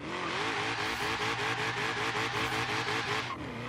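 A supercharged Ford Mustang in Forza Horizon 3 launches in first gear with its tires spinning, the engine roaring loudly and steadily with a pulsing whine and tire squeal throughout, close and continuous, easing off slightly at the very end.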